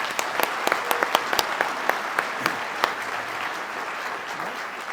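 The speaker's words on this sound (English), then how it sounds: "That's one more round of applause." Another round of audience applause at a veterans winter stand-down gathering, dense continuous clapping from a crowd with sharp individual claps popping out near the front, steady for the whole stretch.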